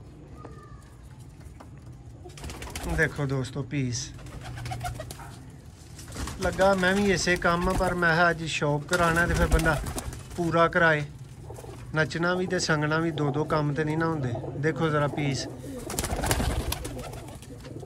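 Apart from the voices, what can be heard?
Sialkoti black-faced pigeons cooing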